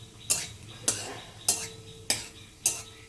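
Tempering spices and dried red chillies fry in oil under a light sizzle. A utensil scrapes and clacks against the pan five times at an even pace, close up.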